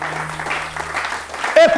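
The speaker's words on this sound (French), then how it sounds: "si tu veux acclamer, acclame bien" A congregation applauding a preacher at a church gathering, a short burst of clapping mixed with voices that swells sharply near the end.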